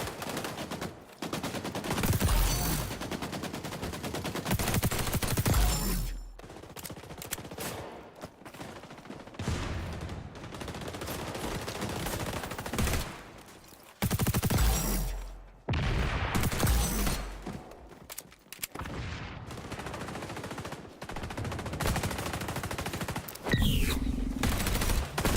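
Gunfire in the XDefiant shooter game: loud, rapid automatic bursts pour out almost nonstop, with a few brief pauses between long volleys.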